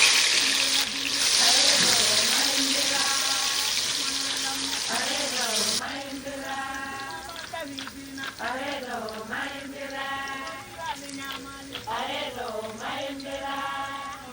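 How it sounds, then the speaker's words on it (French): Plantain bananas frying in hot oil, a steady crackling sizzle that runs loud and close through the whole stretch, with a person talking over it for much of the time. "Maintenant, je vais faire frire les bananes plantain."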